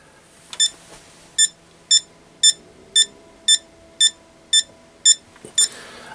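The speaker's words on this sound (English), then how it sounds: "warning light and the alarm to show that that's live" A Mustool MT92 multimeter's non-contact voltage alert sounds near a live wire or appliance, a string of ten short, sharp, high electronic beeps at an even, quick rhythm, loud and close against a quiet background.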